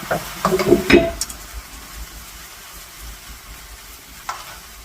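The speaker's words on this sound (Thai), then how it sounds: "ตอนนี้ก็ผัดให้ทุกอย่างเข้ากันนะคะ" Vegetarian mee sua noodles stir-fried in a pan with fried tofu, tossed with chopsticks: a few loud scraping stirs at the start, then a softer, steady sizzle alone.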